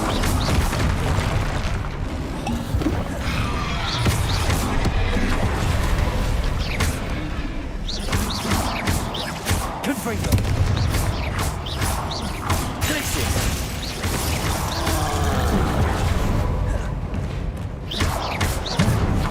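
Incendio and Confringo spell blasts in Hogwarts Legacy, a continuous stretch of loud booms, thuds and crashing impacts layered over combat noise, dense and close throughout with occasional voices.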